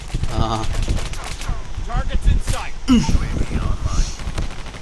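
Rapid bursts of gunfire from Call of Duty Mobile, featuring the Arctic .50 sniper rifle, crackle through a busy, continuous in-game mix while a player talks over the shots.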